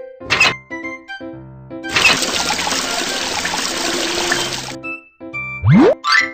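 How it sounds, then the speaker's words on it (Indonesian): Tap water running in a BabyBus children's video game, a steady cartoonish gush of about three seconds set between short musical chimes and a rising boing effect. "Buka keran air."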